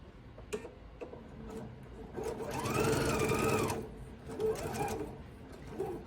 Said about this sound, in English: we'll go ahead and we'll sew these pieces together